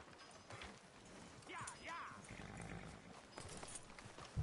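Horse hooves clip-clop at a walk in Red Dead Redemption 2. The steps are soft and fairly distant, set in a quiet ambient game background, with a faint snort or whinny audible at one point.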